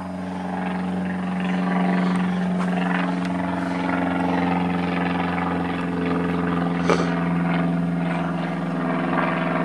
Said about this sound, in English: Wave bye-bye to the airplane.